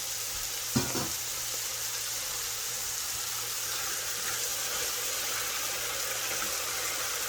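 Leftover washing water sizzles and hisses steadily as it evaporates in a hot pan, a continuous crackling fry with a brief clink near the start.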